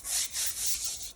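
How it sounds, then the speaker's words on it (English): Scrubbing of external porcelain tiles with a brush, several quick back-and-forth rasping strokes in an even rhythm, close and moderately loud, with no voices. "with another little scrub."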